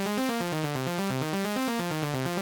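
Synth lead arpeggio written as a repeating one-bar piano-roll pattern, cycling steadily through stepped notes at a quick, even rhythm, loud and alone with no voices.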